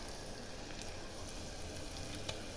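Onions and ginger-garlic paste fry in hot oil in a pan for a mutton and drumstick curry, giving a steady, close, continuous sizzle without pauses or voices.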